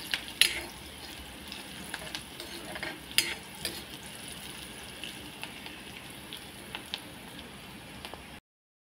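Onions fry in oil with turmeric, a steady crackling sizzle broken by occasional sharper scrapes and clicks of stirring, close and fairly quiet throughout with no one talking.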